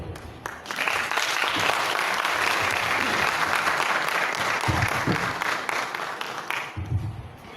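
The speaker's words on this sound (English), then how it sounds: "You would want to clap again for him." An audience at a youth leaders summit in Southern Kaduna breaks into loud, sustained applause, a dense wash of clapping that fills nearly the whole stretch before tapering off near the end.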